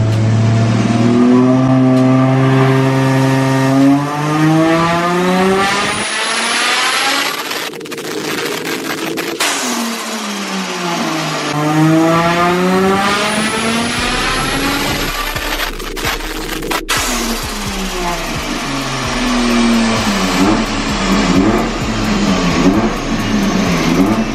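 A 600 hp Nissan R32 Skyline engine revs hard on a dyno while misfiring and dropping a cylinder, climbing and falling through the rev range several times. The engine is loud and close, with no talk.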